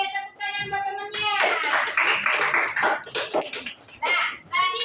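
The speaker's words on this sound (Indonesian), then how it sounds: "tepuk tangan buat temannya" Fifth-grade pupils in an elementary school classroom clap their hands for a classmate, a brief burst of close, uneven clapping following a woman's speech, with kids' voices and chatter mixed in.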